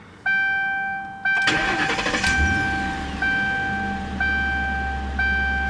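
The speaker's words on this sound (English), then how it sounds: "Let's go ahead and fire her up." A 2011 Ford Crown Victoria Police Interceptor cranks over and its engine catches, then settles into a steady low idle. Close and loud, with warning chimes dinging at regular intervals through the start.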